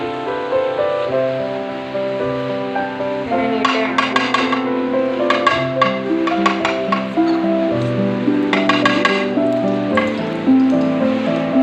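Two tablespoons of ghee heating in a non-stick pan on a stove while preparing carrot halwa, a loud continuous sizzle with bursts of sharper crackling spitting throughout, no talking.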